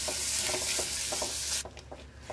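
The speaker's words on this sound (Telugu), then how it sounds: "ఇప్పుడు మరికొద్దిగా నెయ్యిని యాడ్ చేసుకుని ఇప్పుడు ఈ కొబ్బరి ముక్కల్ని వేసేసుకుందాం. వీటిని కూడా మంచి ఫ్లేవర్ వచ్చేంత వరకు ఫ్రై చేసేసుకోండి." Coconut pieces fry in ghee in a kadai, opening with a loud, hissing sizzle and rhythmic stirring scrapes, then dropping abruptly to a quieter crackle with occasional spoon knocks.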